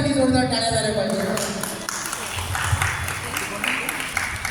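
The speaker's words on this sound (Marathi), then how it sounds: "जोरदार आपल्यासाठी जोरदार टाळ्या झाल्या पाहिजे." A crowd applauds at a Marathi-language public programme while guests are welcomed. The clapping is a steady, moderately loud wash beneath someone talking over a microphone.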